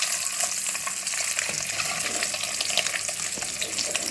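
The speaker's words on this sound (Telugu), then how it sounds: "ఎగ్స్ కొంచెం దోరగా పసుపు వేసి వేయించుకున్నాను" Eggs fry in hot oil with turmeric in a pan, a dense, continuous crackling sizzle with scattered sharp pops, close and fairly loud, with no voices.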